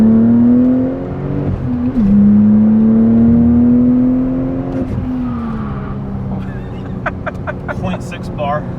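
Porsche engine revving during a boost leak test, a rising and falling whine with a strong tone that climbs, dips and holds before easing off. Voices talk near the end.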